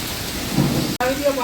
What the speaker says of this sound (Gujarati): વરસાદ એટલો દાબડે છે